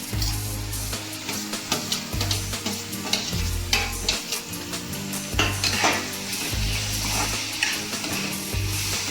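Tomatoes tumble into a hot pan of spinach for a village-style Marathi palak bhaji, setting off a loud steady sizzle with repeated scraping stirs and clinks of a spoon against the pot.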